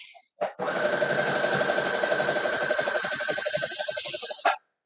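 A sewing machine stitches a costume leg in one long, steady whirring run that stops abruptly near the end, with a short start-up burst beforehand.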